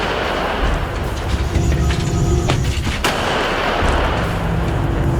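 DITA self-propelled artillery system firing, a loud rumbling roar with a sharp report near the middle, rolling on continuously with no voices.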